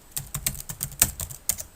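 Keys clatter on a computer keyboard in a quick, uneven run of about nine crisp, close clicks, with no other sound.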